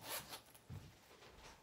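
Zip-around closure on a smooth black leather Coach boutique wallet with gold-tone hardware, pulled in a few short raspy strokes up close, quiet and without talk.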